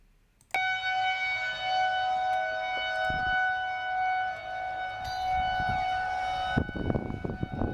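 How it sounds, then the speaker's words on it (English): A tornado warning siren wails in Eastern Jefferson County, Louisville, Kentucky, a loud steady outdoor tone held for several seconds, with faint rustling and handling noise underneath and toward the end. "So that's tornado warning siren, Louisville, Kentucky, Eastern Jefferson County, March 18th, 2022."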